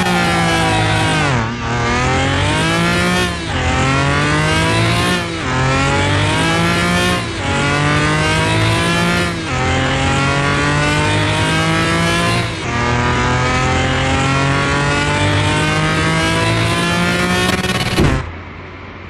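A McLaren F1 supercar in Car Mechanic Simulator 2021 roars through repeated full-throttle gear pulls, its engine note climbing steadily then dropping at each shift, loud and close for about eighteen seconds before cutting off.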